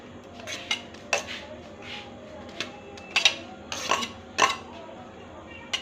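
Chopped onion tipped into a metal bowl while making muri, a series of light clinks and scrapes of spoon on bowl, sparse and close.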